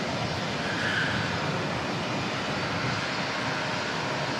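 Qantas 144, a jet departing Auckland for Sydney, produces a steady, dense engine roar held at an even level for a few seconds, with no talk over it.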